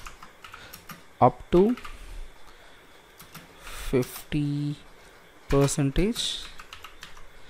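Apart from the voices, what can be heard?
typing on a computer keyboard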